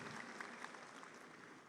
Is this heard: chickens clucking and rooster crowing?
no